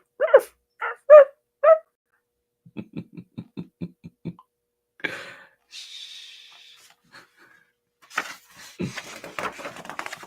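A voice imitates a dog barking with a quick series of short, rhythmic 'ruff' sounds, followed by a few breathy noises and some speech.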